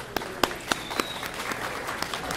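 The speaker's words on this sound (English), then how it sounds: "Let's give them a round of applause." Volunteers at a community gathering applaud with scattered, sparse claps, a few sharp individual hand claps standing out over a soft, steady background wash, fairly quiet and brief.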